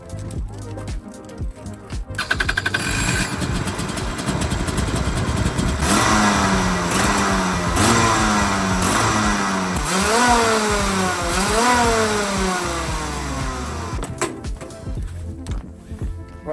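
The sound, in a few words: go-kart engine starting and revving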